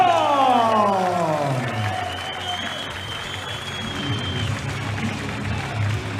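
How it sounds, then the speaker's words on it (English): Crowd applause for a Bulgarian super heavyweight athlete at an East vs West arm-wrestling match, sustained loud clapping and cheering from a large indoor audience, with an announcer's voice carrying over it at the start. "Give a big round of applause to"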